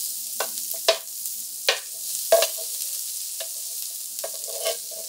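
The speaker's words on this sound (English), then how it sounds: "We're going to saute our onion in the 1 tablespoon of olive oil" Onion sautéing in a tablespoon of olive oil, a low background sizzle punctuated by several distinct stirring scrapes at irregular intervals, close and without speech.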